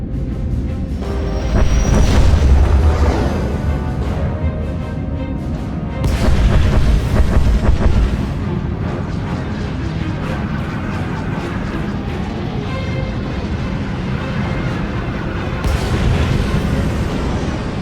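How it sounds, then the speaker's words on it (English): Heavy starship bombardment in Star Wars: The Old Republic, a continuous rumbling roar of distant explosions with several louder booming swells. "Proceeding with bombardment, targeting all major population centers."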